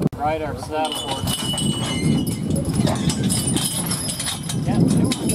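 Hooves of a saddle horse clop rhythmically on the ground as it moves along beside a horse-drawn road grader, with people talking over the steady, close footfalls.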